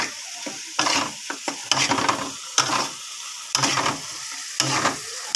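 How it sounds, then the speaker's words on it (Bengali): Spice paste for a pangas fish kaliya sizzles and fries in a pan while a spoon stirs it in repeated scraping strokes, close and fairly loud, with no talking. "দিয়ে এবার ভালো করে নাড়বো"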